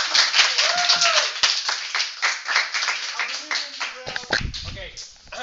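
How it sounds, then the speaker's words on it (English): Quick, sharp hand claps from a classroom ring out in a dense burst, loud and close, with voices and crowd noise mixed in underneath. "Please clap your hands."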